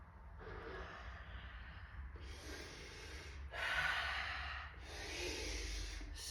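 Deep, audible breaths through the nose and mouth during a slow fascial movement exercise, about four long airy inhales and exhales in steady rhythm, close and alone.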